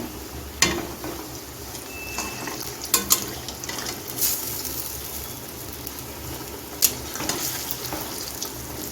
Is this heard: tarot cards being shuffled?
no